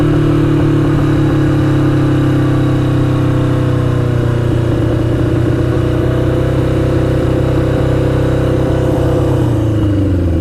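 A 1982 Yamaha Maxim XJ750 motorcycle, a barn find with a blinking oil pressure light, idles and revs continuously with a steady mid-pitched engine drone that rises slightly before easing off near the end, close and loud.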